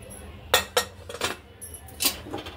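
A pressure cooker of dal khichdi is opened after the steam has been let out. Its metal lid clinks and clatters in a few sharp, separate knocks against the pot, with quiet gaps between them.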